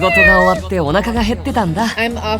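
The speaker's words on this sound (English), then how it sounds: "Good evening, kitty cat." A cat meows loudly and close up several times in quick succession, with drawn-out, wavering cries and no talk over them.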